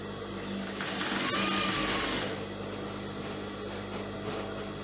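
Sewing machine stitching the side seams of an Ankara fabric jacket, a steady fast mechanical whir that rises for a couple of seconds then eases to a softer running hum.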